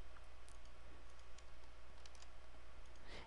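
Keys tapped on a computer keyboard while entering carrier settings, heard as sparse, faint clicks over a steady low hum, with a small flurry near the end.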